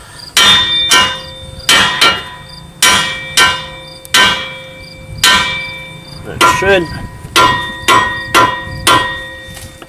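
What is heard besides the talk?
hammer hitting inner tie rod of Pontiac G6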